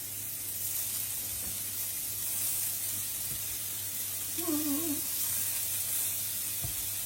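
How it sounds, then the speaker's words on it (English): Beef meatballs searing in a pan over high heat give off a steady, soft sizzle and hiss throughout, fairly even and close, with a faint scrape of a utensil partway through. "just put your meatballs in here. And I want it on quite a high heat."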